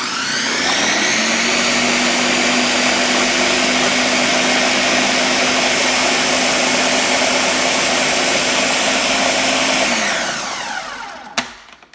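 A blender whirs loudly and steadily at close range for about ten seconds, blending a cream sauce with three chilies for a chicken potato casserole, then winds down and stops with a brief clunk.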